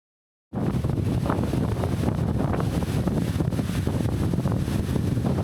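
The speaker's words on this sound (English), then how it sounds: "it's a pretty windy morning today here in Siargao, so I don't expect the audio to come out well" Strong wind buffets the microphone on a windy morning in Siargao, a constant, rumbling roar that starts abruptly and continues without pause.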